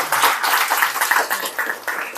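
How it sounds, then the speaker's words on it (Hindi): An audience at a DM office visit in Rajouri Garden claps together, a close, uneven patter of hands with distinct bursts that rise and dip over a couple of seconds. "उनके लिए आप लोग जोरदार तालियां हो जाएं"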